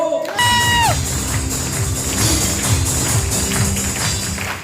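Audience clapping and cheering erupt at a company's 25th anniversary event, a dense, loud, continuous burst of applause that starts abruptly after a brief tone and carries on throughout.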